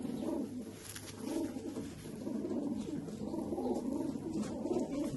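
Pigeons coo in soft, repeated rolling phrases, a steady murmur of several birds close by with no talking.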